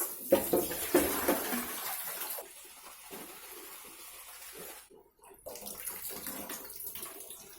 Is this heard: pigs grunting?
no